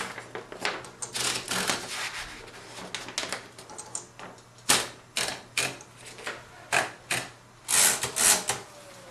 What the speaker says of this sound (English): So here's a brief typing sample.